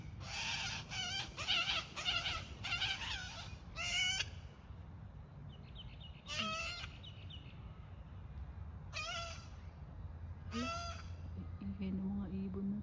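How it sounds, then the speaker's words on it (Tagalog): Maned ducks calling in a backyard in Australia, a series of sharp, repeated nasal cries in short bursts, some close and some farther off, over steady low background noise. "Ingay ng mga ibon na to."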